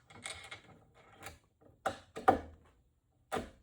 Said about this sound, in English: So I'm gonna get my bolt in here.